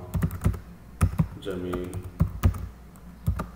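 Keys on a computer keyboard, set to English, clack in short irregular groups of taps, and a voice speaks briefly between them.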